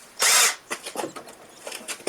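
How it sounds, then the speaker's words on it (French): A power drill bores a pilot hole into a carport beam: one loud, harsh burst near the start, followed by several shorter, softer grinding and scraping bursts close by. "je vais faire un avant-trou pour soulager quand même la visseuse"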